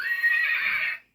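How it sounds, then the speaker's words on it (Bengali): A single horse whinny from a toy animal-sound phone, loud and close, holding steady for about a second before cutting off cleanly. "ঘোড়ার ডাক"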